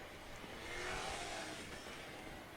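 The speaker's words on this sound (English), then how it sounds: "And that was a really loud car outside" A loud car passing outside a home, heard faintly and indoors as a muffled engine swell that rises to a peak about a second in and then eases off.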